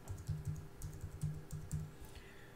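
Quiet, steady keystrokes on a computer keyboard as a password is entered, soft clicks in quick irregular bursts with short pauses between, close and alone.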